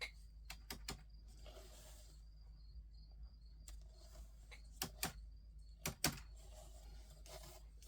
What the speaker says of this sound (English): That's why you hear the because I'm tapping on the keyboard.